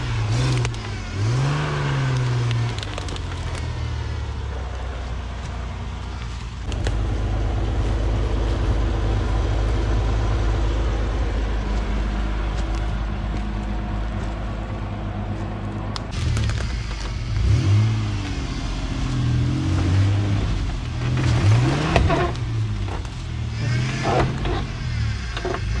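A Ford Explorer in all-wheel drive low range crawls through a deep ditch, its engine revving hard in repeated surging bursts over a heavy, rumbling drone that persists throughout at close range.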